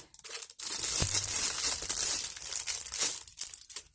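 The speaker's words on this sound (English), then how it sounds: "Sorry for the sound of the plastic." Continuous crisp crinkling of plastic packaging, close and fairly loud, with irregular rustling bursts throughout and no voices.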